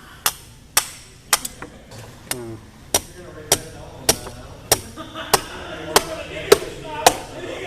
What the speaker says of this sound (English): grab your handy dandy hammer